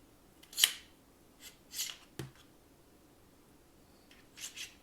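An adjustment screw on a JR holster being tightened: a few quiet, brief scraping and grinding turns spaced over several seconds, close and isolated against near silence.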